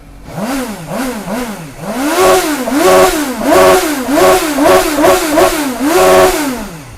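A Triumph Street Twin motorcycle engine fires up and is blipped repeatedly, loud close revs rising and falling in quick rhythmic bursts with no talk.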